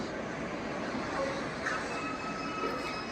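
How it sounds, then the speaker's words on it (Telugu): A goods train rolls through Warangal railway station on the main line, its wagons giving a continuous loud rumble with faint high wheel squeals throughout and no clear talk. "గూడ్స్ ట్రైన్ వెళ్ళిపోతుంది"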